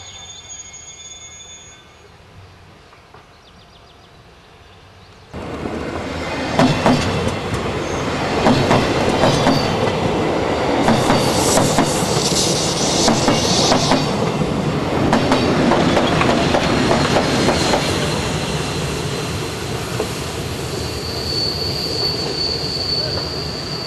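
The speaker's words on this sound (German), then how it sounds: "Der Zug kommt aus Richtung Semmering." A train passes on the Semmering Railway in Austria, arriving loud and close after a quiet start, with steady rolling rumble, clattering wheels and high squealing on the curves that continues to the end.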